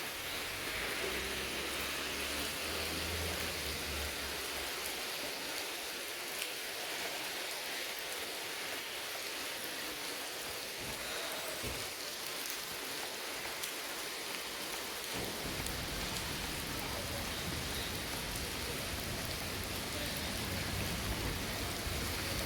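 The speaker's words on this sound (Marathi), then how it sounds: "सध्या इथे सिंगापूरमध्ये पाऊस चालू आहे, तर तुम्ही बघू शकता." Steady rain falling in Singapore, a dense even hiss of drops on surfaces that continues without break, with a low rumble in the background fading out partway through and returning later.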